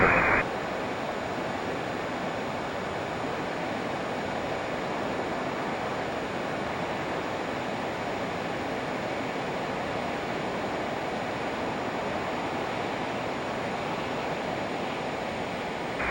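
Steady broadband rushing of wind and airflow inside a Learjet 35A in flight, a constant loud roar from start to finish with no clear breaks.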